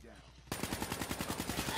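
Rapid automatic gunfire in Call of Duty: Black Ops 3 rattles in a fast, even burst of about a dozen shots after a quiet start.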